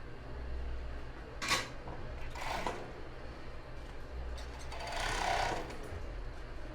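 A sewing machine stitches along the edge of bra fabric in short bursts, each a few seconds of rapid mechanical whirring separated by quieter pauses, fairly close with no talking.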